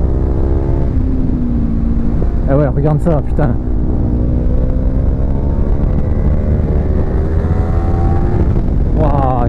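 Kawasaki Z300 motorcycle ridden hard, its engine droning steadily with rising and falling pitch throughout, a loud close rider's voice breaking in briefly over the engine.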